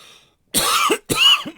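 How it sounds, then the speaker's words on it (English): Two harsh, loud coughs close to the listener, one right after the other. "Excuse me while I cough."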